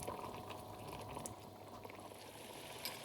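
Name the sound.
vindaloo curry starting to simmer in a pot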